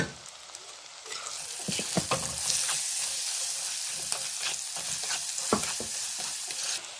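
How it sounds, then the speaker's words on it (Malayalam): Onions and tomatoes sautéing in a pan with salt give a steady sizzle, broken by repeated scrapes and clacks of stirring. The sound is close and continuous with no voices. "ഒരല്പം ഉപ്പ് പൊടി കൂടി ഇട്ട് കൊടുക്കുക അപ്പോൾ ഇത് എളുപ്പം വഴന്ന് വരും"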